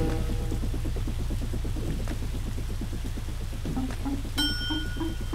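A bell chime rings in the video game Atom Zombie Smasher to signal that a scientist has been rescued. It is a short bright ding near the end, over a busy, rhythmic game soundtrack.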